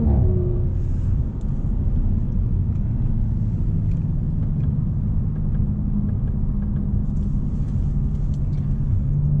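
Audi RS5 R MTM tuned to 575 horsepower pulling hard on the autobahn, a loud continuous engine and road rumble from inside the car with steady turbo drone throughout.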